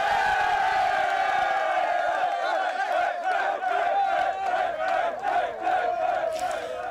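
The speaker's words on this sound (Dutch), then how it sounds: "een applaus voor onze jongens" A crowd at a club celebration cheers and shouts for the team's boys, a loud sustained roar of many voices with whoops and chanting-like tones, dense and continuous throughout.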